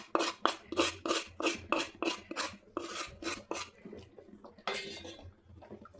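A spoon scrapes rhythmically around a pot of semolina over low heat in repeated strokes, loud and close, slowing and softening toward the end.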